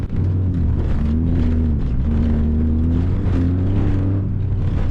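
A Toyota GR Yaris engine drones steadily on a track, a loud sustained rumble with low harmonics that shift in pitch as the revs change, continuous with no pauses.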